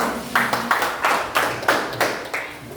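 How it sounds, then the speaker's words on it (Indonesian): A classroom group claps in a few loose bursts, about seven uneven rounds of hand claps over roughly three seconds, fairly close and moderately loud with no talk over it. "berikan tepuk tangan untuk kita"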